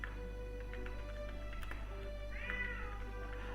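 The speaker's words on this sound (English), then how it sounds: "I think my cat wants to go out." An indoor cat meows at the door, wanting to be let outside: a couple of drawn-out, wavering calls over a faint steady household hum, with no one talking.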